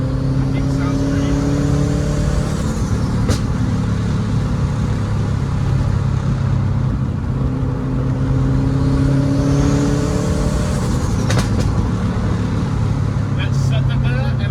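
A Subaru WRX hatch with an EJ25 engine and an FP Red turbo in the stock location revs hard, its droning engine note rising and falling loudly and continuously, with sharp pops and crackles near the end.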